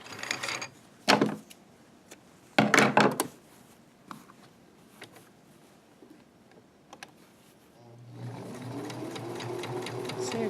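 A sewing machine stitches a pajama pants seam in short, loud bursts separated by quiet pauses and small handling clicks, then runs in a steadier hum near the end.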